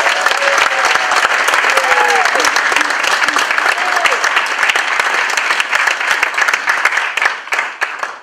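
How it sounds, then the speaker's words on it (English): An audience at a concert gives a dense, loud round of applause that holds steady for several seconds, then thins and fades at the end. "Yeah, so a big round of applause."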